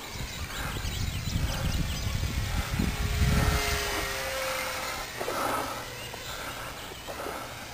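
A Nitro Planes 800mm Corsair RC warbird flying outdoors, its small propeller motor buzzing steadily at mid distance with slight swells in pitch as it passes.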